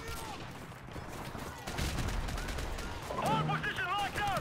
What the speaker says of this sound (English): Stop shooting for a minute.